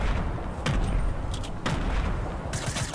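Gunfire from Fortnite, a handful of loud bursts at short intervals over a constant game-noise bed, with no voice in the clip.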